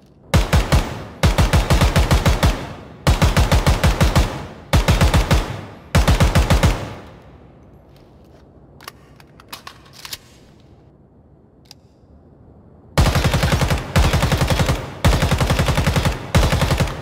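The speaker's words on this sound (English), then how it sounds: "Next one we got is the AK-105." AK-105 rifle fired in the Ground Branch video game: rapid full-auto bursts, five near and loud in a row, then a quiet gap with faint clicks and handling, then three more bursts, with no talking.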